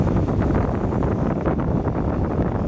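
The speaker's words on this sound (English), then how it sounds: "It was getting pretty windy on the ocean side" Strong wind off the ocean side of Sydney Harbour buffets the microphone, producing a dense, continuous low roar with no breaks and no voices.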